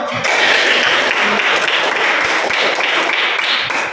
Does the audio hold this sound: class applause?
yes